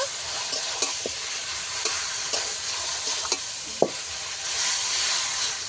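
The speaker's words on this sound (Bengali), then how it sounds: "আদা জিরেও একসঙ্গে কষিয়ে নেব।" Ground cumin and ginger paste fry in a pan for a fish-head and taro-leaf dish, giving a steady sizzle with scattered soft scrapes and taps of a stirring spoon, no voices.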